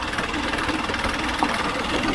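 A vehicle engine running in second gear on a jungle track, a continuous close drone with a rough, knocking texture, steady in level throughout.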